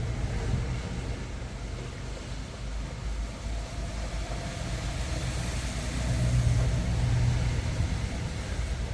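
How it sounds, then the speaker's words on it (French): From inside a car during a driving lesson, a truck passes very close on the road: a low engine rumble and road roar build and swell, peaking near the end. "Ah non, le camion il est passé vraiment proche."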